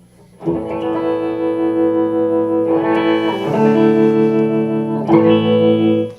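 Amplified electric guitar chords through a Henry SRT+ amplifier with tremolo and no reverb ring out loudly, changing twice, each one sustaining with a full, slightly shimmering tone.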